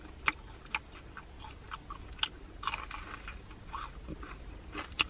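Crunchy bites and chewing on Korean sticky hot wings glazed with sugar and honey: sharp, close crunches every half second or so over a quiet room, with no talk.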